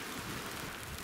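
Steady rain falling in a forest during a moose hunt, a close, continuous hiss of drops with no voices over it.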